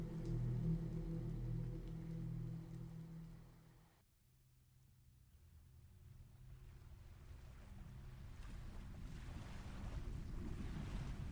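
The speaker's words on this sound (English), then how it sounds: "The boat coasted along the waves, icy water escaping the depths and splashing on the deck" Ocean waves wash and splash against a boat at sea, a steady broad rushing swell with a brief lull partway through before building again, carried under wind.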